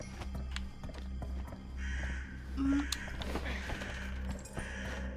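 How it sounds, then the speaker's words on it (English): Several crows caw amid eerie ambience in The Casting of Frank Stone video game, their calls scattered over a low droning background with footsteps and faint effects. "Oh, so many crows."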